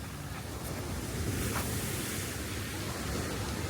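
Ocean surf rolls in at La Jolla Cove in San Diego, a loud, continuous roar of breaking waves mixed with gusty wind buffeting the microphone.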